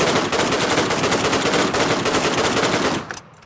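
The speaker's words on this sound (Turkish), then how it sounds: "Oha duvardan vuruyor." Automatic gunfire in the shooter game Redmatch 2, a loud rapid stream of close shots that keeps up steadily before cutting off abruptly near the end.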